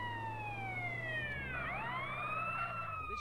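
A police car siren wails in GTA San Andreas, its rising and falling tone sweeping loudly over a low engine rumble, near and continuous with no talking.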